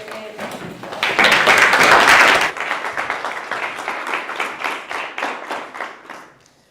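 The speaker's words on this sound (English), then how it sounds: "can we give it a round of applause?" Applause from students and teachers at a student leadership weekend at the British School of Bucharest, dense and loud at first, then thinning into scattered claps that fade out.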